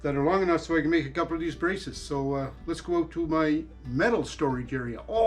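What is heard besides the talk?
No everyday noises stand out.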